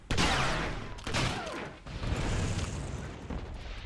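A thrown detonation charge blows up in a multiplayer match, a loud explosion with a rumbling roar, then a second blast and continued crackling debris.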